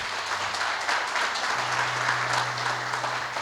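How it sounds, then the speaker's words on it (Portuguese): Applause from a church congregation during an evening worship service, a broad steady wash of clapping that holds for several seconds, with a low sustained organ or keyboard tone beneath. "eu quero que você aplauda bem forte o Senhor esta noite"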